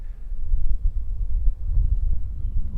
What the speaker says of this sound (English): A little bit windy, a little breezy